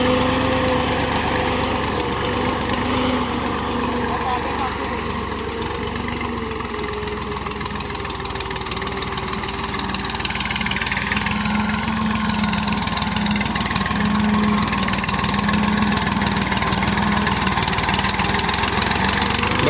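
A Massey Ferguson 240 tractor engine pulls a planker over a field, droning steadily and loudly for the whole stretch with a constant mid-pitched hum and no voices.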